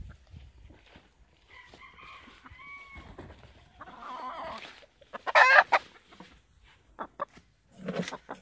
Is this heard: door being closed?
no